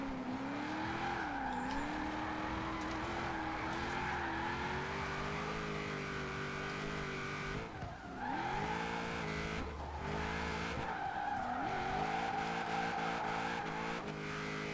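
An Impala SS with a supercharged LS V8 swap drifts in Forza Horizon 4, the engine droning and rising and falling in revs through long slides, with tire noise, steady and unbroken with no talk.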